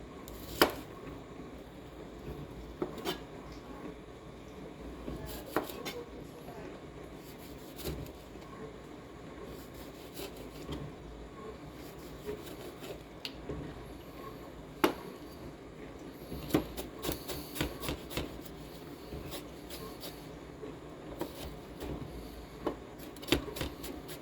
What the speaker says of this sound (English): Now I got to chop up my tomatoes